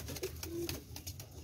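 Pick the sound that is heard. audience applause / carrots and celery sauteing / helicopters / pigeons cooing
pigeons cooing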